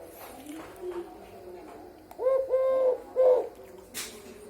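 A tame Eurasian collared dove coos in three close, clear phrases, with quieter low murmurs and faint background sounds around it.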